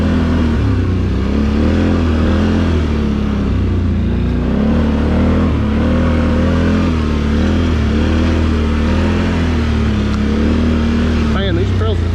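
A 2023 Can-Am Outlander 850 XMR ATV revs loud and close on dirt trails at Lake Murray, its engine note rising and falling continuously through the whole stretch.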